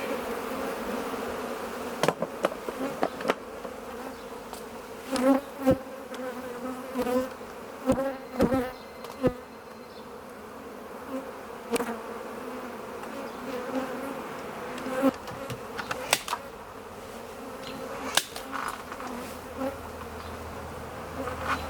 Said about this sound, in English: I already got some bees leaning in the box over here, so it's going to get crazy quick.